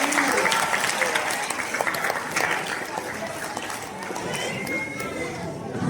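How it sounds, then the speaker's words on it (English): A crowd applauds steadily for several seconds at a bubbles science show, a dense wash of clapping with some chatter mixed in. "round of applause"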